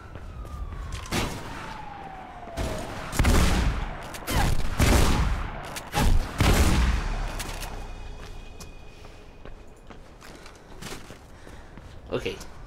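Gunfire in Mirror's Edge: several loud bursts of shots in the first half, with a falling siren-like tone early on, then quieter stretches and a final short burst, with a voice talking over it.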